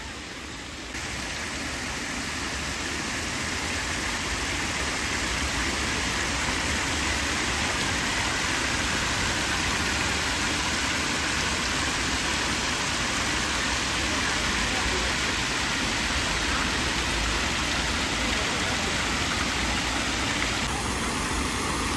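Cascading water of the Archibald Memorial Fountain in Hyde Park, Sydney, pours in a steady, dense broadband rush that holds constant and fairly loud throughout.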